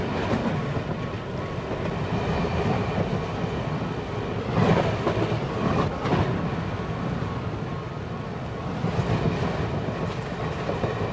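ICF passenger coaches roll along in the Train Sim India game with a steady, full rumble of wheels and carriages that holds even throughout, swelling slightly twice midway.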